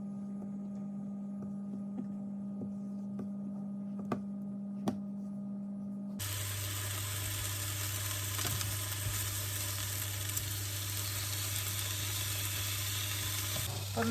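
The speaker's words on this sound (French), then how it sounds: "Pendant que les nectarines sont en train de griller" Nectarines fry in olive oil in a pan, a quiet, steady sizzle under a low electrical hum that grows louder and fuller partway through.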